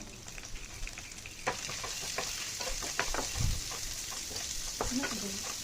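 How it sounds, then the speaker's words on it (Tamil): Finely chopped onions sizzle and crackle steadily in a hot pan while being sautéed for a palak moong dal curry, with occasional stirring scrapes and clinks of a utensil against the pan. "இது நல்லா நல்லா வதக்கி விட்டுக்கிறலாம் இந்த வெங்காயம் கலர் சேஞ்ச் ஆகிற வரைக்கும்"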